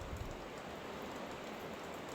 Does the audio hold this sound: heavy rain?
yes